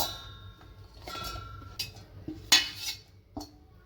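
Roasted onion, coconut, ginger and garlic being dropped into a steel mixer jar, a few soft clinks and taps of spoon against metal, faint and close in a quiet kitchen.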